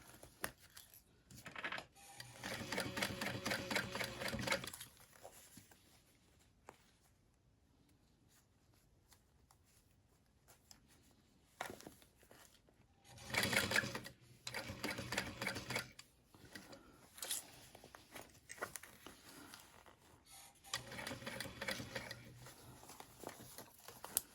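A sewing machine stitches a wide handmade backpack in several bursts of rapid, rattling needle strokes, separated by quiet pauses and light handling of the fabric, with no talking.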